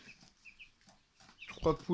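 Backyard hens and young roosters kept for a breeding pen, clucking and calling in a few faint, scattered bursts, with a louder cluster of calls near the end.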